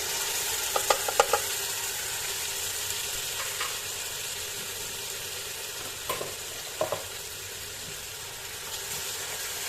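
Onion, garlic and spices frying in oil for a pea, broad bean and artichoke stew, a dense steady sizzle close by with scattered light clinks and stirring scrapes throughout.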